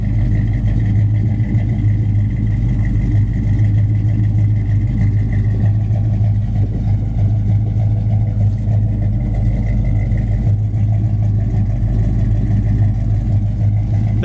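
A 1972 Chevy Chevelle restomod V8 idles steadily with a deep, loud, even rumble from its dual exhaust, running continuously with no revving.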